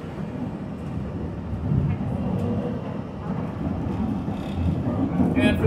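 A train rumbles past nearby while riding a PCC streetcar, a steady low roar that swells gradually over several seconds.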